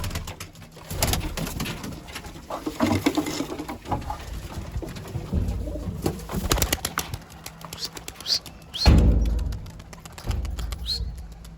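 Young tumbler pigeons fly during first flight training, with wings flapping and clattering in bursts, including a sharp close flutter near the end, over outdoor background noise and some faint voices.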